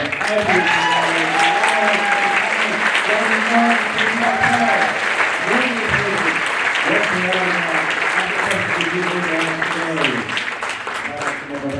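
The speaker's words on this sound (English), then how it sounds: "let's give a round of applause" A panel audience applauds at an ET 40th anniversary event at STC Weekend 2022, with loud, dense clapping running throughout and voices audible over it.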